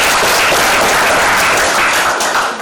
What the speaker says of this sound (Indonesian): Kita tepuk tangan untuk itu.